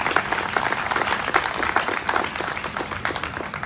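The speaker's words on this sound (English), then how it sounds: "Please give her a nice warm round of applause as well." Participants at the annual Hope Walk give a warm round of applause, a lively cluster of claps from a gathered crowd, steady and fairly close, with slight crowd murmur beneath.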